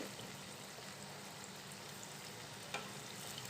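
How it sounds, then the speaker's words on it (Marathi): Vadas fry in hot oil with a faint, even hiss and bubbling, one small clack near the end. "इथे आपण आता जे वडे सोडलेले आहे तेलामध्ये"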